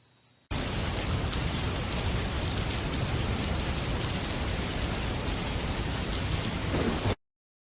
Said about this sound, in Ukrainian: восени часто йдуть холодні дощі